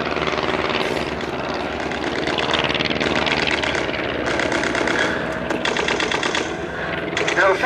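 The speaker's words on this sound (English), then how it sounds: "Heading away from us in the other direction, one SE5A with the other Fokker triplane on its tail." First World War Junkers CL1, SE5A and Fokker triplane replicas dogfight at an airshow, their propeller engines droning and buzzing loudly and continuously as they pass, under an announcer's commentary.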